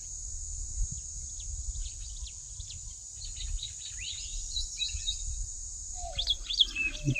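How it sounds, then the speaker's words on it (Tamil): Small birds chirp and tweet in quick scattered bursts over a constant high insect drone beside water while hook fishing, with more calls crowding in toward the end. "நல்லா குருவியை கத்திக்கிட்டு அருமையாக இருக்குது"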